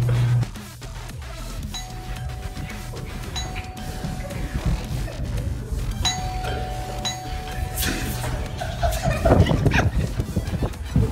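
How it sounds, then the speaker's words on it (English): Doorbell chimes ring twice in a Call of Duty Zombies match on the Der Eisendrache map, each tone sustained, over a busy, dense game soundscape of clatter and rumble. "Doorbells everywhere and he's gonna have to ding dong ditch five of them."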